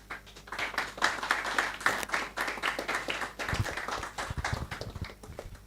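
Audience clapping for a speaker at an investing talk, a fairly quiet spread of claps that comes in waves and fades unevenly, with some heavier low thumps near the end.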